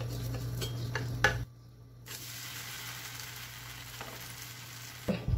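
Oats dosa cooking on a pan with a lid, a steady low sizzle and hiss, broken by a brief clank of the lid and utensil taps, close and without talk.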